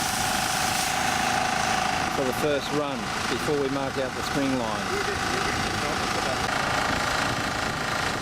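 A tractor engine idles steadily nearby, set up to plough on a farm site, its continuous rumble and knocking running beneath someone speaking throughout.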